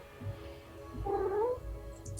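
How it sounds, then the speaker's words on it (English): A cat gives a single drawn-out meow lasting about half a second, fairly faint and indoors, over a quiet room hum. "The cat."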